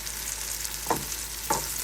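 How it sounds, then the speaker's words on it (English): Onions sizzle steadily in a pan for Middle Eastern majadara, a constant hiss of frying with two brief louder stirring scrapes. "It's cooking, and I am making the onions."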